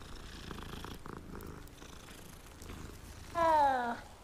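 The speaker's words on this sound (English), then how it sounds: "And he was purring. I could hear it." A cat petted in the video game Hogwarts Legacy purrs softly and steadily under quiet game ambience, followed by a short louder meow-like call near the end.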